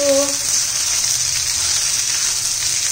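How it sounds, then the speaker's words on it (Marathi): Okra sizzles in hot oil for a spicy okra-potato curry, a steady close frying hiss held throughout, with a brief voice at the very start. "भेंड्या पण तेलामध्ये जरा परतून घेऊया, म्हणजे चिकट होत नाहीये."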